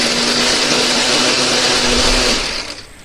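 Kitchen blender grinding coriander, candlenut, garlic and shallots with added water or oil, a loud steady motor whine that runs evenly, then winds down and cuts off near the end.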